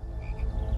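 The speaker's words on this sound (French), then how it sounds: "Les grenouilles sortirent du Nil et s'infiltrèrent partout, même dans le palais du Pharaon" Frogs croak in a dense chorus in a scene from the film Exodus: Gods and Kings, a low, throbbing, continuous rasp heard up close with no voices.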